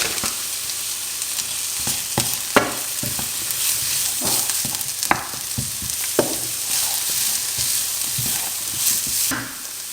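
Food sizzles and fries in a pan under a constant hiss while a utensil stirs it, with irregular scraping knocks against the pan. Close and loud, with no talking.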